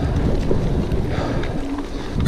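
Steady low rumbling wind buffeting the microphone, loud and continuous throughout, with no voices.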